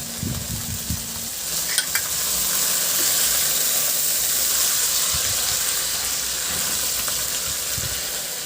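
Squid and onion fry in a pan seasoned with soy sauce and oyster sauce, a bright, steady sizzle with brief stirring clatter near the start, close and continuous.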